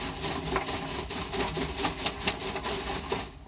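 Perlite, leaf humus and compost potting mix being stirred together by hand, a close, continuous gritty rustle and crunch with small scraping bursts.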